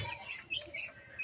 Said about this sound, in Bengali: ১০২টা মুরগির বাচ্চা নিয়ে শুরু করছি।